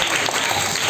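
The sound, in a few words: applause for a student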